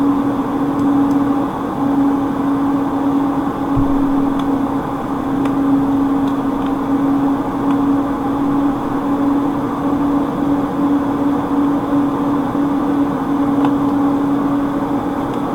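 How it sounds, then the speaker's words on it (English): A computer's cooling fan labours under load, making a steady droning whir with a constant hum tone, loud and unbroken throughout, with no speech. "what you're hearing is the computer itself"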